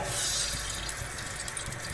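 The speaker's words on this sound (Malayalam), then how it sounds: "ഇനി ഇത് ഊറ്റിയിട്ടിടണം, ഇത് വെള്ളമൊക്കെ പോക്കണം" Boiled macaroni draining in a sieve, water pouring and trickling through steadily at close range, a continuous hiss-like splash with faint drips, with no voices.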